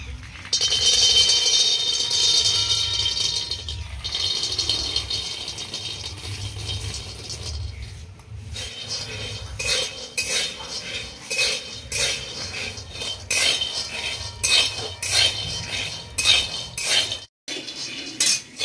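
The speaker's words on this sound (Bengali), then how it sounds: "কড়াইটা গরম হয়ে গেছে, এবার আমি বাদামটা দিয়ে দেব।" Peanuts being stirred in a hot wok to roast, with a constant metallic rattle of the nuts and repeated clinking scrapes of a utensil against the pan, close and fairly loud.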